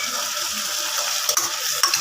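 Tomatoes and onions sauté in a hot pan with a loud, close, continuous sizzle, broken by a few scraping spoon strokes and light clinks, with no voices.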